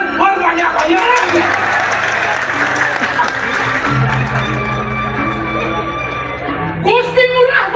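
An audience at a Balinese drama gong stage performance applauds at length, with sustained dense clapping blended with tonal music and voices throughout.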